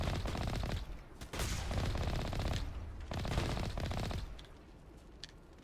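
Enemy gunfire in Mass Effect on Insanity difficulty, with snipers and anti-armor weapons among the attackers. Loud, dense bursts of rapid automatic fire run almost without a break, with short gaps between volleys.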